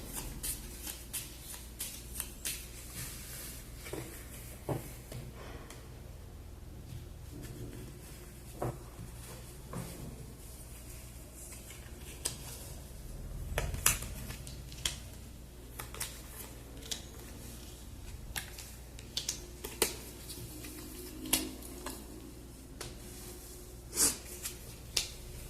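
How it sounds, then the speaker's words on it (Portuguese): A deck of tarot cards is shuffled and cards are drawn, a soft steady riffling and rustling close by with scattered light slaps and taps as cards are laid down. "Então eu vou tirar 8 cartas."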